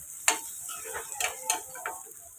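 Onions sizzle in a pan for chicken curry, with a low frying hiss broken by several sharp clicks and scrapes of stirring.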